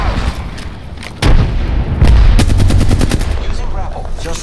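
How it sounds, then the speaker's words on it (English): Gunfire in an Apex Legends battle: sharp, loud shots and rapid automatic bursts crack in quick succession, with heavy booming impacts building into a dense volley near the end. "Opening fire on the enemy"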